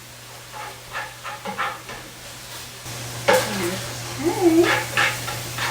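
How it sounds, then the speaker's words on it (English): Ground beef and sausage fry in a pot for cabbage soup, a soft continuous sizzle under scraping and stirring, with a brief word spoken early and clattering utensil sounds later. "Okay, it's starting to fry up real nice now."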